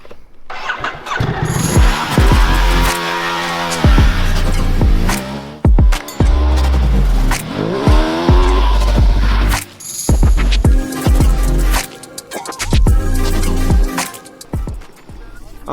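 A Ducati Multistrada 1260 Enduro motorcycle is ridden in desert sand, its engine revving up and down loudly in repeated surges with brief drops between, close and dominant.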